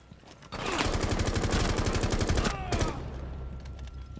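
Rapid automatic gunfire from the starting gun in a video game rattles in a steady burst of about two seconds, then a brief second burst and fading echoes.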